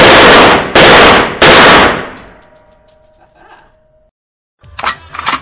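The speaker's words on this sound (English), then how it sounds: "ndio maana inaitwa machine gun" Machine gun fire in three loud, close bursts that ring out and decay. A further burst of shots follows after a short silence.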